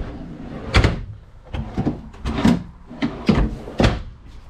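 Drawers and cabinet doors in an RV kitchen, a Heartland Bighorn 3460GK fifth wheel, opened and shut repeatedly, giving a series of close sliding rumbles and sharp knocks and thuds.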